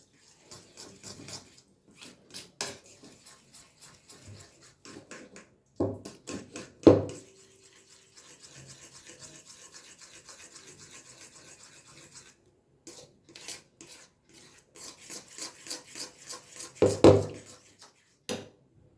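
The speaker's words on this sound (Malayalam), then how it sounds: "നന്നായി ഇളക്കി യോജിപ്പിക്കുക" A spoon scrapes and stirs a sweet banana and cocoa powder mixture in a bowl, soft repeated rubbing strokes in bursts separated by short pauses, close and fairly quiet.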